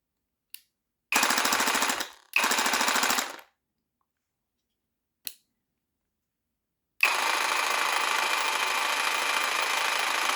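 Parkside Performance PSSPA 20 Li A1 cordless jigsaw with pendulum action bursts on and off: two short buzzing cuts, a couple of brief clicks, then a longer sustained rattling cut, with silence between.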